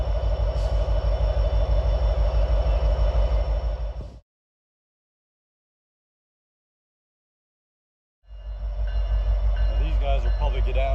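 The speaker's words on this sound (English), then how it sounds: "The coal train's continuing east." A Norfolk Southern coal train rolls east along the Pittsburgh Line in autumn, a loud, close, continuous rumble with a regular rhythmic wheel beat. The sound cuts out abruptly for about four seconds, then the heavy rolling returns.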